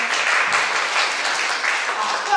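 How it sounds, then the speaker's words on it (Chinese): Audience applause at a student music recital, a dense, steady wash of many hands clapping, loud and close, running the whole length without pause. "给予热烈的掌声。"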